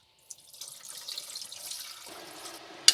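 Starchy rice-rinsing water poured out into a kitchen sink, a steady close splashing gush that deepens and thickens near the end, closing with a sharp knock.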